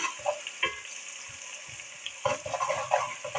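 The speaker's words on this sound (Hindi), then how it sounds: "2 मिनट तक ऐसे ही भूनेंगे ताकि इनका कच्चापन जो है वो खत्म हो जाए।" Onions with garlic-ginger paste sizzle and fry in a pan, with soft intermittent scraping and stirring sounds over a steady close hiss.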